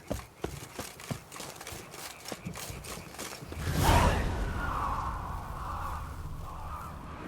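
In The Witcher 3, a few crow caws sound over game ambience, following rhythmic hoof-like clip-clops and then a swelling whoosh of wind.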